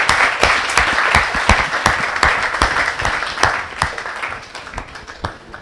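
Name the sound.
audience applause welcoming a poet at a kavi sammelan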